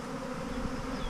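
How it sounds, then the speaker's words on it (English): A honeybee swarm that has just been shaken into a box in a backyard hums with a dense, continuous buzz, moderately close and fairly soft. "there's still a lot of bees buzzing"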